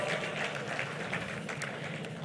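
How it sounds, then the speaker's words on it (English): An audience applauds at the opening of an executive leadership programme for ministerial appointees in Ada, Ghana, with a steady wash of clapping heard from a moderate distance. "Another round of applause."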